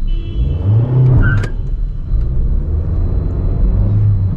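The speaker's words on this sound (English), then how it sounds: "So now I'm in the first gear. Let's launch the vehicle." A Maruti Suzuki Dzire BS-6 petrol sedan pulls away hard in first gear, its engine rumbling loudly from inside the cabin, rising briefly, then settling into a steady drone with a short chirp partway through.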